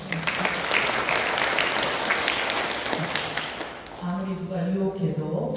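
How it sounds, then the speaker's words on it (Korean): Congregation at a Won Buddhist temple service applauding, a broad wash of clapping that fills the first few seconds and then thins out as voices and tonal sound take over near the end. "박수 한번 쳐주세요."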